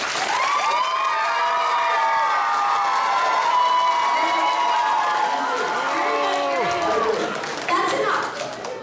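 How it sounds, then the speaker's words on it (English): An audience at a children's stage musical courtroom scene claps and cheers loudly and steadily, with voices shouting and whooping throughout before the noise tapers off near the end. "to applaud as loudly as you can"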